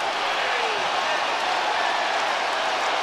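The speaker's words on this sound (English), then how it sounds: "Robert Covington, yes, they're cheering for you now." A basketball arena crowd roars and applauds in a steady, loud wash of cheering for NBA player Robert Covington, with no individual claps standing out.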